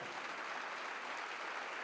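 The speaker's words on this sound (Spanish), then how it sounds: "El aplauso de sus compañeros fue el refrendo que recibió la presidenta de UPN a su ofrecimiento" Party colleagues of the UPN president applaud at a political gathering in Navarra, a steady, even wash of clapping from a crowd, heard alone and fairly distant.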